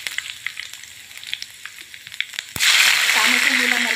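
Curry leaves dropped into hot oil with cumin seeds burst into a loud, sudden sizzle partway through, following soft scattered crackles of the heating oil; the spitting hiss stays strong and close to the end.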